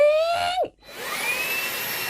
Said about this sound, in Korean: 청소기에서 난 소리가 원래도 조금 시끄럽긴 하지만